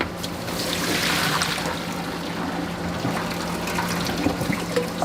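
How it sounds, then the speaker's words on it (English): Rice noodles for Singapore chow mein are rinsed under a running kitchen tap, giving a steady close splashing flow of water with a faint low hum underneath. "let me rinse them off over here."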